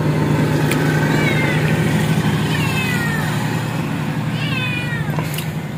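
A cat meows several times, drawn-out, rising calls heard close over a constant low engine-like hum in an outdoor setting where homemade dried fish is being prepared.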